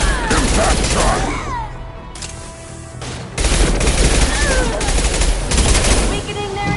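Dense rapid gunfire from impact shots in the video game Mass Effect 2, loud and continuous bursts with a brief dip before resuming, over a busy battle din.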